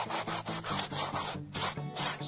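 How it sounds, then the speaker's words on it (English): Rhythmic back-and-forth rasping of a sanding block lightly sanding a wooden model anchor and chain, close up, with regular strokes roughly every quarter second. "just go in there with a sanding block sander and lightly"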